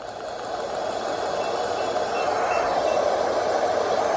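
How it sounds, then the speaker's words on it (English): Steady brown noise from a Babelio white noise machine, a deep, smooth, continuous rumble with no breaks, holding at a constant moderate level throughout. "This is brown noise."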